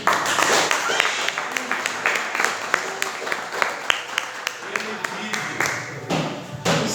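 A church congregation claps in an uneven, scattered rhythm for several seconds, sharp hand slaps standing out over a softer mass of applause, with voices faintly underneath.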